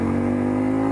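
A car engine hums steadily close by in a short burst, a low droning tone with no voices.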